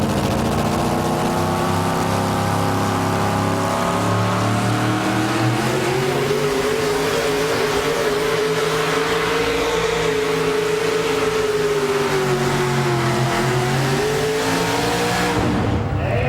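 A 4WD pulling truck named the Radical, out of Versailles, Kentucky, roars at full throttle during a truck pull in Goshen, Indiana, its engine note loud, close and sustained, climbing and wavering in pitch throughout.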